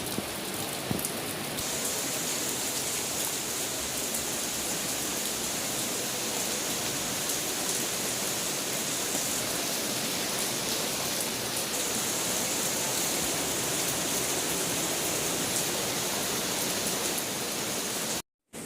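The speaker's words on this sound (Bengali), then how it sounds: "আজকে হচ্ছে একটা বৃষ্টির দিন আসলে প্রচুর বৃষ্টি হচ্ছে সকাল থেকে" Heavy rain pours down in a thick, constant rush of close droplets that holds steady and loud for the whole stretch before cutting off abruptly at the end, with no one speaking.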